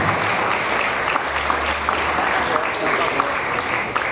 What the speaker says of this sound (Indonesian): Sekali lagi kita beri aplaus untuk Ibu Ibu Ida Suryani.